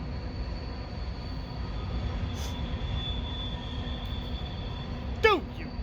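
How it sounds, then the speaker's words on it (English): A train rolls past with a steady low rumble and a thin tonal whine, then a sharp high wheel squeal sweeps downward near the end, fairly distant and moderately loud, no talk over it. "Train!"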